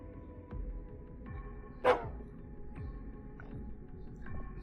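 Single sharp dog bark in the video game Psychopomp GOLD, sudden and brief over a low, eerie electronic hum and soft rhythmic tones, no talking.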